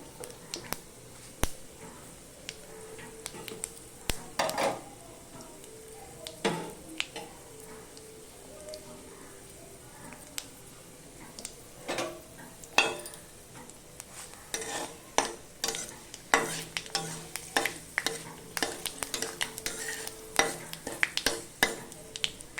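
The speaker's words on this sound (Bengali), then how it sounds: "ভালো করে ভাজছি ফোড়নটা যাতে খুব সুন্দর করে হয়।" Dried red chillies and whole spices fry in hot oil for a dal tempering, with a steady low sizzle under repeated sharp scrapes and clicks of a stirring utensil against the pan, close and fairly quiet.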